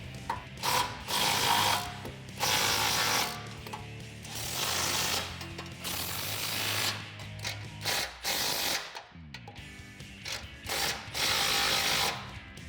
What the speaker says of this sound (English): we can tighten the bolts that we just installed down with a 21mm socket